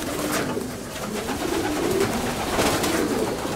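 Adult pigeons coo steadily in a large loft, soft overlapping low throaty calls from many birds close by, with a continuous flock murmur beneath.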